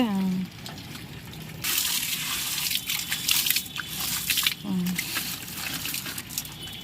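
Water gushes and splashes steadily for a few seconds onto jasmine plants dressed with ash, pausing briefly, with a voice speaking before and during the pour.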